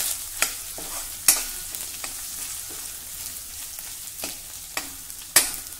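Green chilli and crushed ginger-garlic paste sautéing over a low flame in a pan, a soft steady sizzle broken by several sharp spoon taps and scrapes against the metal.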